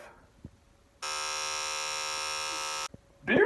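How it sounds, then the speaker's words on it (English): Electric beard trimmer switched on for about two seconds, a steady loud buzzing hum that cuts off abruptly, with a short voice burst at the end. "What is that noise? Beard trimmer?"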